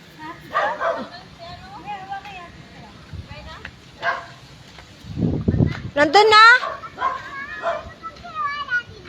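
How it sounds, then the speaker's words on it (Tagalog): A dog barks and yips a few times amid nearby talking voices, with a burst of excited yelping partway through. "May aso dyan."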